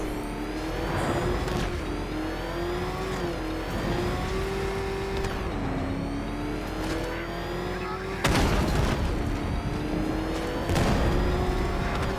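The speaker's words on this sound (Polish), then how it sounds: "Podjedziemy pod Nightwinga." A car drives through the city in the video game Batman: Arkham Knight, its engine note rising and falling through gear changes, with a burst of louder turbo-like noise and tire sounds near the end.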